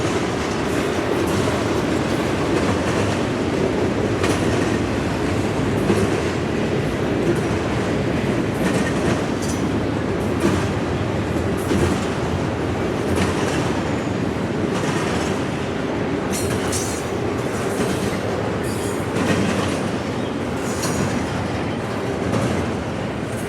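A long southbound freight train rolls steadily past close by, a continuous heavy rumble with rhythmic clickety-clack of wheels over rail joints and occasional faint squeals.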